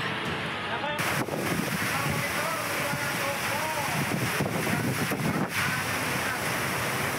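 Heavy rain and strong wind roar in a steady, loud, broadband wash across an outdoor area during a storm, with a few brief gusts and knocks and no clear talking.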